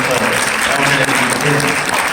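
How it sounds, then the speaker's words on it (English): A live audience at a motivational speaking event bursts into dense, sustained applause, many hands clapping close and loud without pause, with the crowd noise filling the room throughout. "Let's give it a round of"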